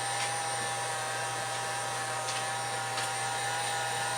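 A heat gun blows with a constant whirring hiss as it warms the wax in a furniture polish, running close and unbroken for a few seconds with no talking.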